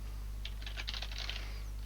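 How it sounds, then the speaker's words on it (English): Rapid clicking keystrokes on a computer keyboard, close and fairly soft, in irregular bursts over a steady low electrical hum, with no voice present. "Typing and talking at the same time."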